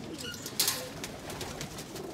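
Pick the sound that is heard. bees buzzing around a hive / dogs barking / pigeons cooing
pigeons cooing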